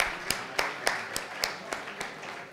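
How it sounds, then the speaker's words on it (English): Sparse audience clapping for a speaker at a panel discussion, a handful of distinct claps spaced evenly about every quarter second, moderately faint over light room noise. "A huge round of applause, please."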